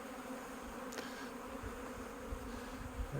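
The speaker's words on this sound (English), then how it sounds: "that's orientation flights of young bees just getting out for the first time and then going back inside" Busy buzzing of many young honey bees on orientation flights outside the hive nearby, a steady droning hum with individual bees passing close now and then.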